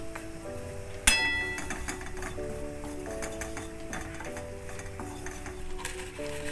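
Flour stirred with a utensil in a hot wok on a stove for a cream sauce, soft scraping and a sharp clink near the start, quiet and steady under background music.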